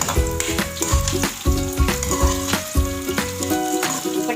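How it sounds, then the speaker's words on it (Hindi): Boneless chicken with yogurt frying in a handi pot, a close, steady sizzle with rhythmic stirring scrapes and taps against the pot, no talking. "दही ऐड करने के बाद मैं इसको भून लूँगी अच्छे तरीके से।"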